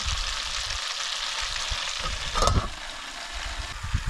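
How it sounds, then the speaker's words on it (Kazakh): Fish frying in a pan outdoors beside a lake makes a continuous close sizzle with soft stirring and scraping, and one brief louder clatter midway. "Қуырмашқа балық бар."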